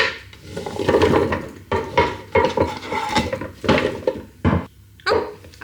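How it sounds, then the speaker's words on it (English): Potatoes and onions are tipped into a Ninja Speedi air fryer, close clattering and rattling bursts of pieces hitting the pot in uneven clumps, with no voices. "let's get those potatoes and onions into the Speedi"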